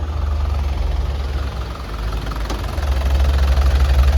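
The diesel engine of an Isuzu Panther Grand Touring idles close by with a steady low rumble and a faint ticking knock, dipping slightly midway before swelling a little louder.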